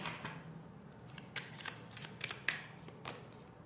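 Playing cards being shuffled and drawn, a series of soft riffling flicks and snaps at irregular intervals, close and fairly quiet with no talk.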